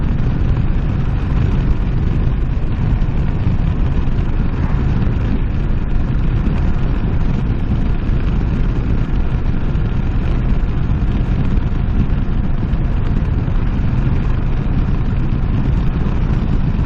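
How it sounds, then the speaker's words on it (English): Motorcycle engine running steadily with a deep, continuous rumble throughout, a loud close engine drone with no distinct rev peaks standing out. "Or if I want to throttle it, it throttles really well."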